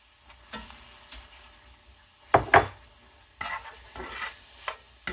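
Ground meat being stirred in a pan with ginger, garlic powder and onion powder, a few scraping and knocking spoon strokes over a quiet sizzle, with one louder clatter midway.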